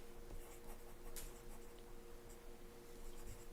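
A pen moves across paper to jot down a quick note, a faint, close scratching with a few small taps over a quiet room hum.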